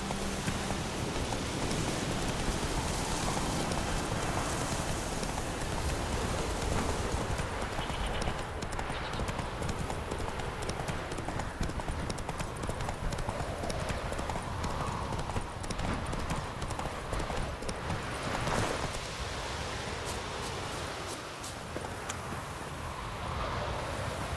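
Roach, the horse in The Witcher 3, clip-clops steadily at a trot the whole time, loud and close, over a dense wash of rain and ambient noise.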